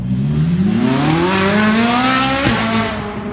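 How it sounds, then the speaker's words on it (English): A Ferrari sports car at an outdoor car show revs hard, its engine note climbing steadily in pitch, then drops briefly and pulls away, loud and close with a strong throaty roar. "Ferrari, that's what that was."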